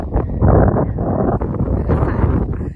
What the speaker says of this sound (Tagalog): Malamig guys. Mahangin.